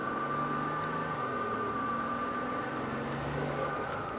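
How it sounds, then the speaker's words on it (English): Intake air rushes steadily through a twin-turbo V12 Mercedes fitted with a prototype intake and aftermarket blow-off valves while it drives. A constant airy roar runs throughout, with a faint thin whine above it and no distinct valve bursts. "So you can just hear that air rushing in, and then our aftermarket blow-off valves."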